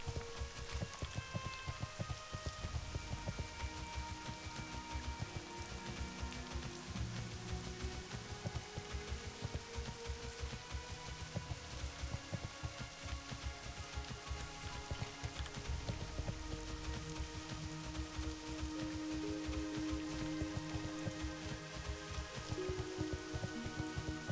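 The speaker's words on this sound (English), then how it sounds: "Sounds like it's raining. Yeah, there we go. It's raining." Continuous rain patters down in the video game World of Warcraft classic, a steady hiss of drops with faint background game music and no speech.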